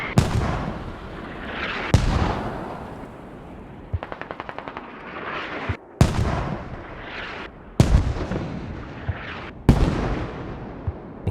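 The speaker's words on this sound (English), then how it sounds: "Mortars towards the rally." Mortar fire in a video game skirmish booms out in repeated heavy blasts every couple of seconds, each with a long rumbling tail, plus a quick rattling burst of automatic fire in the middle; no talking.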